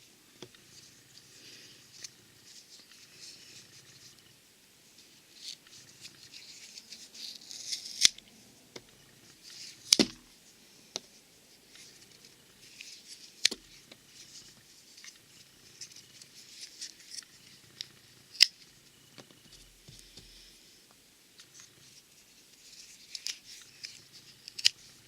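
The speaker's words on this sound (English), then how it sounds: "cuts right through the paracord with, ease." A SOG Trident knife slices through paracord, making quiet scraping and snipping sounds with several sharp cutting snaps scattered through, close up and with no voices.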